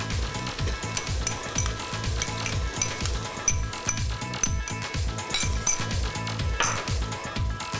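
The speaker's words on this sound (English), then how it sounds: "So cook off that ginger and garlic paste until the moisture evaporates." Ginger and garlic paste sautéing with onions in a pan for a vegetable biryani: a steady close sizzle under repeated scraping and clinking of a utensil against the pan, with no voices.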